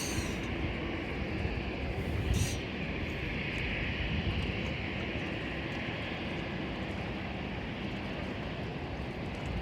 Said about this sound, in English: Just film that quickly. That airplane. Just the one who just landed.